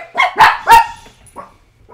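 A few sharp dog barks close by, two loud ones in quick succession followed by a softer bark and faint whimpering yips, indoors in a house, no talk.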